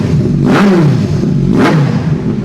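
A 2022 superbike fitted with a custom exhaust revs hard twice at close range, each blip rising sharply and falling back over a loud, steady idle.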